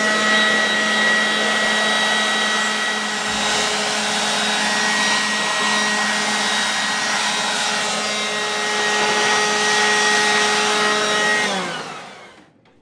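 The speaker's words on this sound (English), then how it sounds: "we will need to clean the POS machine by blowing out the dirt using our Ozito blower" An Ozito blower runs steadily, blowing dust out of an open IBM POS machine, a loud continuous whine holding for about eleven seconds before winding down at the end.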